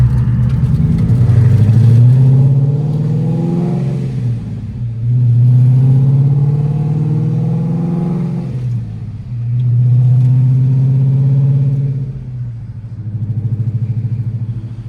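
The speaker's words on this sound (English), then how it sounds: "All right, Paul, let's go for a ride and see how this gear sounds" A Procharged 2012 Mustang GT, heard from inside while driving, roars loudly through repeated acceleration pulls. Each pull rises in pitch, then drops briefly at the shift before climbing again.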